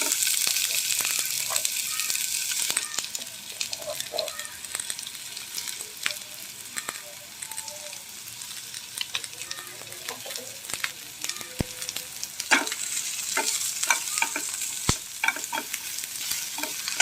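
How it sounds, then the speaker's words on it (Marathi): Onion sizzles steadily in hot ghee in a pan, with scraping stirs and occasional clinks against the vessel. Someone talks quietly over the frying. "हे बघा, तूप घातलं, थोडं कांदा घातला,"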